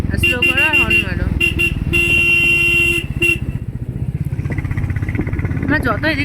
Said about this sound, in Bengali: হর্ন মারবে এখানটায়, স্লো করো আর হর্ন মারো